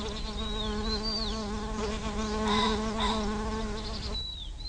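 Buzzing of bees and other pollinating insects around flowering plants, a steady close drone with a fainter high whine over it, and a few bird chirps.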